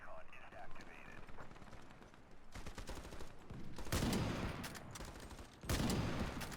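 Sniper gunshots in the IronSight video game, two loud broadband bursts standing out from a lower layer of game noise and scattered shooting.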